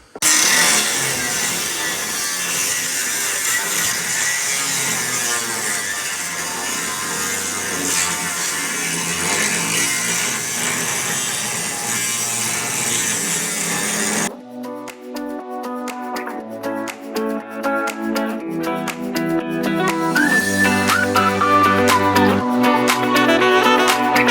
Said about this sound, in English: we'll get the angle grinder out